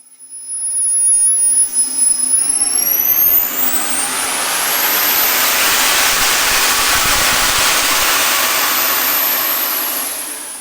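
A small Swiwin SW80 model jet turbine spools up from idle to full throttle, a loud close whine that climbs steadily in pitch over a few seconds and then holds as a powerful roaring rush before easing slightly.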